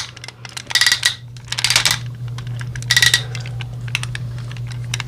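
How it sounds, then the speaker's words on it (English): Ratchet joints on a DX Soul of Chogokin Mazinger Z figure click sharply as the limbs move. Bursts of rapid, crisp plastic clicks come close up over a low background hum. "What we hear are fantastic ratchets."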